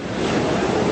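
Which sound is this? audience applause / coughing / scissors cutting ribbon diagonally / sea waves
sea waves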